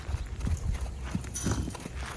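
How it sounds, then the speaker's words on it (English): A horse paces on the ground, its hooves giving soft, irregular thuds in a quick two-beat pattern, moderately near with some background noise. "because this horse in the field will pace, hard pace."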